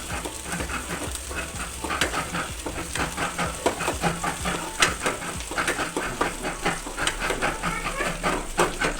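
Onions fry in a pan with a steady crackling sizzle and frequent small pops throughout, close and even, with no voices.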